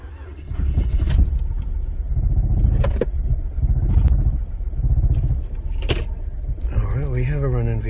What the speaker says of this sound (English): we have a running vehicle by itself